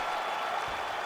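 A crowd in the UFC 5 video game arena applauds and cheers in a dense, continuous roar that fills the whole moment.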